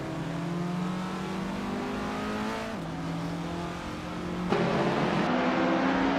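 A 1971 Lotus Elan Sprint's racing engine in a racing video game whines steadily at high revs, its pitch dipping and climbing through gear changes, loud and continuous with no talk.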